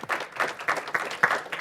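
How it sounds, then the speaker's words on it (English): A small symposium audience gives a brief round of applause: fairly sparse, separate claps come in quick uneven bursts at moderate volume, with little talk. "give a brief round of applause for Pauline Jones"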